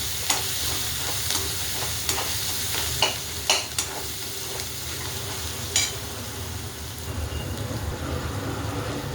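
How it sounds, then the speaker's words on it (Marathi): Coriander and tomato masala stirred in hot oil for a ridge gourd curry, with a steady close sizzle of frying and a few sharp spoon clicks against the pan in the first half, no voices. "कोथिंबीर टाकून घेते, तेलामध्ये एकजीव करते."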